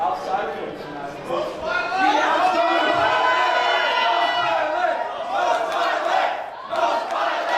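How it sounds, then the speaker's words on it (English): A wrestling event crowd chants and shouts in unison, loud and sustained, with rhythmic swells of many voices filling the arena. "The crowd seems to be answering the open challenge on behalf of Most Violent."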